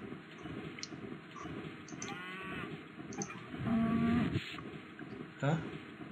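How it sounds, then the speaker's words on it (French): A cow in a McDonald's-themed video game moos twice, one long low call in the middle and a shorter one near the end, over steady game background noise and soft clicks. "On va voir les vaches. Petite vache."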